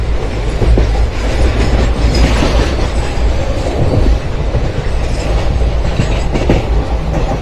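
The Sealdah–Silchar Kanchenjunga Express rolls along the rails near Barddhaman Junction with a loud, continuous rumble and rhythmic clickety-clack of wheels over joints, no talking.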